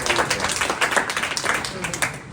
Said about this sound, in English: Good question. Clap for it.